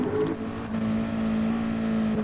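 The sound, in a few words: race car engine struggling to get going, from a video game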